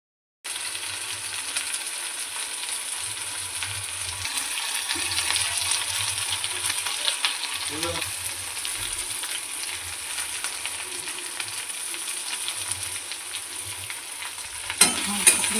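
Potatoes fry with spices in a pan, a steady close sizzle running throughout with occasional soft stirring and a sharper clatter of the utensil near the end.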